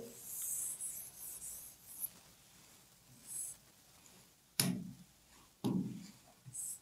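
Pen or pencil scratches across paper in soft, intermittent strokes while working a quadratic equation, faint and close with quiet gaps and a couple of sharper taps.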